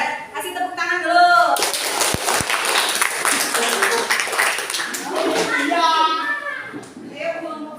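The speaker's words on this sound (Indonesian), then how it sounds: "silakan kasih tepuk tangan dulu" Classroom of students clapping for a student group called up to present, a dense burst of applause lasting several seconds between a teacher's speech before and after, with children's voices mixed in.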